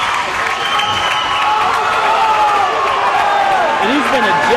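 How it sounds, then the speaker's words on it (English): A college hockey crowd roars during a fight between the Buffaloes and the Rams, a loud, sustained wall of cheering, shouting and clapping, with a few higher whoops rising near the end. "And the crowd here is loving it"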